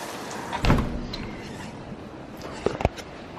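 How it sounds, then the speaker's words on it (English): A door slides and thuds shut, followed by a couple of sharp clunks of a latch, against a steady background hiss of rain. "I'm closing this door"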